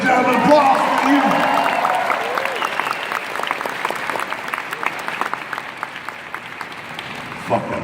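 Audience at a Dallas fan expo applauding Jay and Silent Bob, a dense wash of clapping and crowd noise that starts loud and slowly thins out over several seconds, with a single sharp burst near the end.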